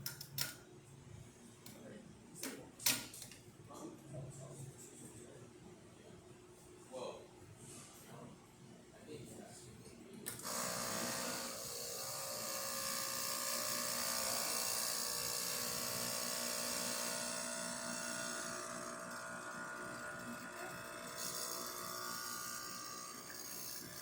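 An Andreja espresso machine, freshly descaled and deep-cleaned, pulls a test shot: after some quiet handling, a steady loud pump drone and hiss start midway and run continuously to the end.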